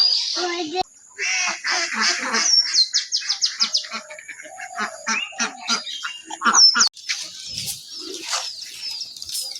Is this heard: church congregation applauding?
no